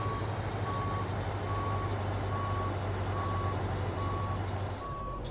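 A truck backs up with a trailer in American Truck Simulator, its reversing alarm beeping evenly about every second over a constant low engine idle, with a short hiss near the end.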